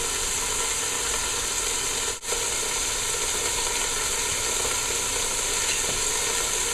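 Lobster tails sizzle on a grill pan over a stove set just above medium, a constant dense crackling hiss close by with one brief dropout partway through, no voices.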